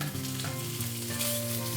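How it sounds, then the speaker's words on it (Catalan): Bacon crackles and sizzles in oil at close range, a dense continuous frying hiss with faint stirring sounds. "I en el mateix oli posarem a fregir la cansalada."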